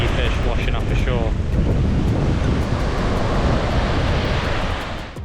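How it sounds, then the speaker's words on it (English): Strong wind roars and buffets across the microphone with the steady wash of surf underneath at a beach in Mui Ne, Vietnam, a constant loud rumble throughout. "it is really windy"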